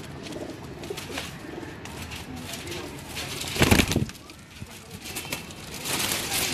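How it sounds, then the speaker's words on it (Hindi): Wild pigeons coo on a rooftop loft in a steady soft murmur, with a louder burst of flapping or rustling midway and a voice talking faintly in the background. "ये जंगली कबूतर है, जंगली कबूतर है ये।"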